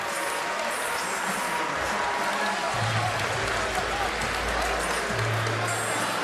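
Hometown boxing crowd responding for a Huntington, New York fighter after a strong ninth round, a dense continuous roar of applause and cheering throughout, with low rumbles beneath.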